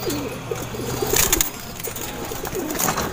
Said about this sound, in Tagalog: Ayun nila lumabas mga kalapatids.